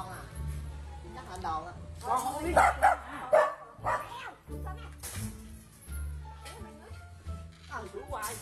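A dog barking repeatedly at a household scene, several loud, sharp barks in bursts between stretches of people talking, with a low steady hum underneath.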